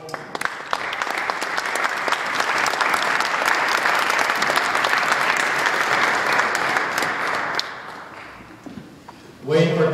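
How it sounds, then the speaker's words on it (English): An audience applauds writer Wayne Laws with a sustained, dense burst of clapping for about eight seconds, steady and loud, before it cuts off and a voice comes in. "Wayne Laws, for whom I ask a round of applause, please."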